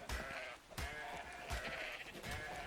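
Sheep in the video game Ark Ascended bleat several times in a row, wavering and nasal, moderately close but faint, with some thuds under the cries and no talking.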